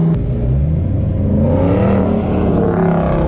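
A Terminator Cobra with a troublesome clutch drives under steady, loud, close engine drone, its pitch rising and falling as it shifts through gears.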